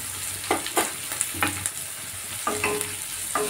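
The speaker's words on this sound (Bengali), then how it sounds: "এবার ভালো করে সবজিটা ভেজে নেব। 5 মিনিট এইভাবে ভেজে নিতে হবে।" Vegetables with green chilli frying in a pan for a vegetable dal, with a steady sizzle broken by several sharp scrapes and clatters of a spatula stirring. No talking.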